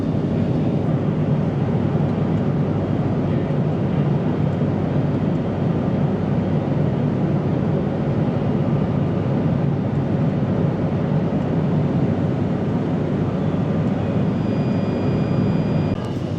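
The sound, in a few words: Binter Canarias propeller airliner in flight, thrust reduced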